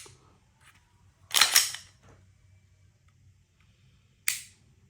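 A pistol trigger, 1911 compared with a Glock, gives two short sharp mechanical clicks alone in a quiet room, the first fuller and the second a brief snap about three seconds later.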